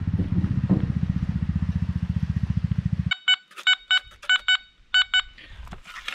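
A metal detector sweeps an old river bed with remains of a wooden jetty and signals a deep, large buried target. A low, fast pulsing drone gives way to loud bursts of short, bright, high beeps in a clipped rhythm.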